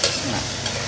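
Prawns slide into a hot wok for a stir fry with broccoli, giving a brief, close sizzle with stirring scrapes and no voices.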